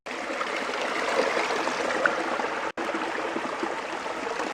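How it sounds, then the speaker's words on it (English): Kegon Falls in Japan, shown frozen in winter, with a steady broadband rush of flowing water heard from a distance and holding an even level throughout, briefly cut off by a short dropout, and no voices. "華厳の滝ですね。"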